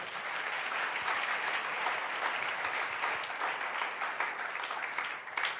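A church congregation claps in sustained applause, a dense, even wash of many hands that fills the room steadily and continues alone without speech.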